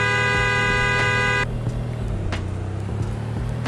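A car horn in the Roblox game Greenville gives one steady, loud honk lasting about a second and a half over a constant engine drone. The horn then stops and the engine keeps running alone.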